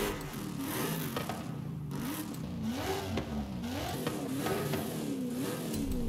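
Supercharged Mercedes with an upgraded intake revving in Forza Horizon 5, the engine note rising and falling in repeated throttle blips with a lumpy, cammed character, loud and steady throughout with no talk.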